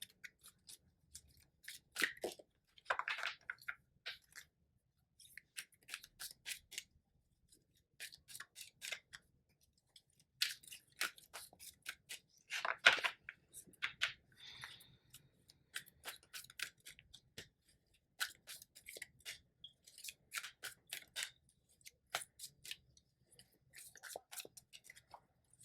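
Tarot cards are shuffled in quiet bursts of soft, rapid riffling and flicking, pausing briefly between rounds, close and faint, with no voices.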